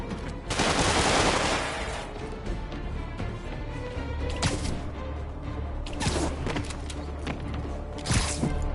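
Bursts of video game gunfire aimed at Spider-Man, a loud opening volley followed by scattered sharp shots and impacts, with more clustered cracks later, close and fairly loud over a busy background.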